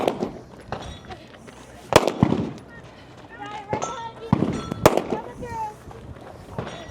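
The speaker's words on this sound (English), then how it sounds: "Looking at a pistol now, 10 shots left at 24 yards out." A pistol fires at a target 24 yards away during a women's tactical competition stage, with several loud, sharp cracks at irregular spacing while a commentator talks over them.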